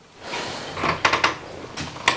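A door is pushed open indoors, giving a series of wooden knocks and rattling bumps, close and moderately loud, with no talking.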